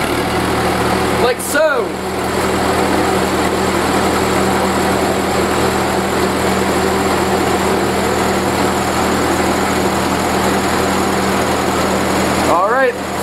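Four-cylinder flathead Hercules engine on a WWII anti-aircraft gun generator, cranked by the starter and catching into a loud, steady running drone close by, with someone speaking briefly over it.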